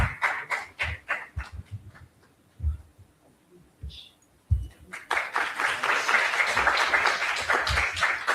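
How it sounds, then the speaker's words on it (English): Applause from the audience at an HR leadership summit, cheering the performers. Sparse scattered claps come first, then a loud, dense burst of clapping swells and holds steady until the end. "A big round of applause for the incredible performers."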